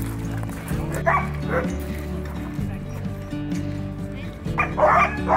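Alaskan sled dogs, Iditarod finishers, bark and yip excitedly in a close, overlapping chorus at a kennel, the loud outbursts running continuously with a few whimpers mixed in.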